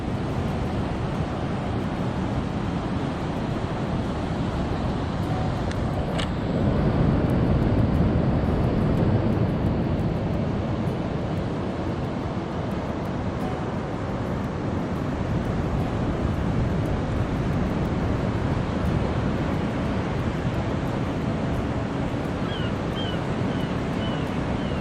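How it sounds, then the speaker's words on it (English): Ocean waves wash onto McClures Beach at Point Reyes in a continuous, moderately loud roar of surf, mixed with wind buffeting the microphone throughout. "Nothing like the sound of ocean waves."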